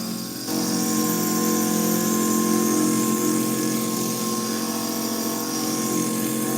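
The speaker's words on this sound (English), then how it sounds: "I marked where the eyes are, so now I can just grind them out easier." A stained glass grinder works glass for a praying mantis piece, grinding out the marked eyes with a steady, close, high motor whine and rough grinding rasp that holds constant throughout.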